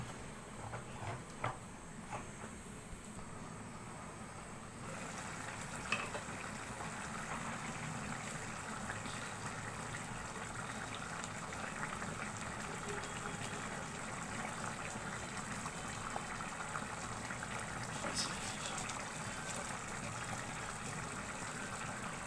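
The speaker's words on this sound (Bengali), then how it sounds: "তো ঝোলটা আমার বলক এসে গিয়েছে।" Fish curry broth with prawn fritters bubbling at a boil in a pan, a continuous soft, watery burble and hiss that stays steady and close throughout, with no talking.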